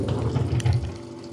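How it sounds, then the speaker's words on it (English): A Mova P10 robot vacuum with auto water kit runs a mop wash, a short burst of gurgling, pumping water and sloshing close by, fading toward the end. "Almost like it's doing a mop wash."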